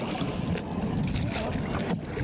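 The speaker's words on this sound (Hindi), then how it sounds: "अभी बोटिंग करने जा रहे हैं।" A boat ride on a lake in Bhopal: a steady, close rush of wind and water fills the whole stretch at an even level, with no voices.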